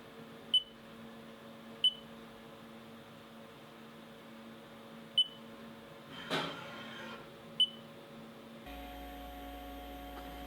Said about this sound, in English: With the final beep, the probing sequence is complete.